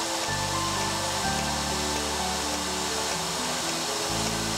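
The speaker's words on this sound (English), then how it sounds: "All of the drilling, tapping, and cutting is automated" An automated enclosure modification machine drills, taps and cuts metal enclosures, giving a steady, dense mechanical whir with shifting low motor tones that step up and down, continuous and close with no talking.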